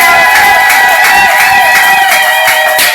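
A large crowd cheering loudly at a foundation's official launch event, with sustained shouts, whoops and high voices blending into a dense, continuous roar for the whole clip.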